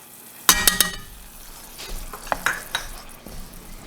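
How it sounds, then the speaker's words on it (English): Dried oregano stirred into tomato sauce in a pan, with a spoon clinking sharply against the pan a few times over a steady soft sizzle, followed by lighter scraping stirs. "we're also going to stir in a half a teaspoon of dried oregano"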